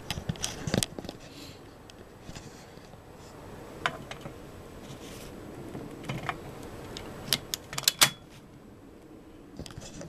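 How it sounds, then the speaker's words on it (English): The bolt of a Marlin No. 25 .22 short rifle is worked, giving quiet, close metallic clicks and sliding clacks scattered irregularly over faint background noise. "Show a little bit more of the bolts in action there."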